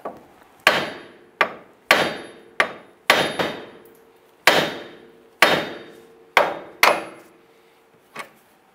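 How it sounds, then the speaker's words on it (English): A hammer strikes the forward side of a steering knuckle on a 2002-2007 Jeep Liberty to pop loose the tie rod end, about a dozen sharp, ringing metallic blows at an uneven pace, close and loud. "use a hammer to hit the forward side of the knuckle here to pop this tie rod end out"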